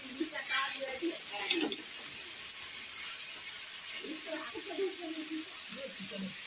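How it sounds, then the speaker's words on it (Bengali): Broccoli and carrots fry in a pan, giving a steady soft sizzle with occasional scraping stirs, while a voice talks intermittently over the cooking. "এখানে আমি ব্রোকলি আর গাজর ভাজা করছি।"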